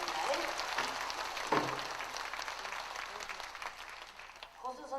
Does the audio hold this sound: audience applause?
yes